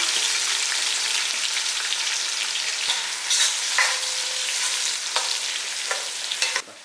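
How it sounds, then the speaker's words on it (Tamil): Cashews and sliced onions fry in hot oil for mutton dum biryani, giving a loud, close, continuous sizzle with occasional stirring clatter and no talking. "பாருங்கள், இது எல்லாமே நல்லா பொரியட்டும்."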